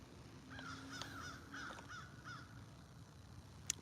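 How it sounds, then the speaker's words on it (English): Crows cawing outdoors near someone feeding birds, a series of four or five harsh, rhythmic caws at moderate distance over a quiet background, then a short sharp knock at the end. "The crows know I'm out here feeding everybody."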